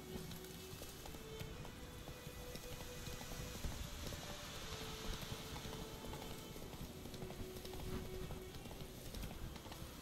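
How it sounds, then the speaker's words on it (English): Horse hooves clip-clopping in the video game The Witcher 3, a fast, steady run of hoofbeats at a constant moderate level with faint background noise throughout. "Get on the horse."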